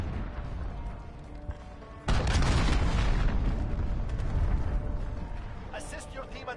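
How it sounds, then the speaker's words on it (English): A cruise missile blast in the Call of Duty Modern Warfare beta hits with a sudden loud boom after a brief lull, then a long rumbling roar with scattered gunfire and game voice chatter over the top. "Enemy cruise missile. Take cover."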